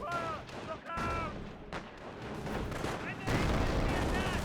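Dense battlefield gunfire from a Company of Heroes match, with a German MG42 machine gun suppressing troops amid continuous crackling shots and explosions, loud and busy throughout with some talk mixed in.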